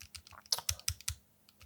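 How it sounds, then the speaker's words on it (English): Mechanical keyboard switches are pressed in a quick run of close, crisp clicks and clacks, about eight keystrokes in an irregular rhythm, with no talk. "the mechanical buttons that are in here"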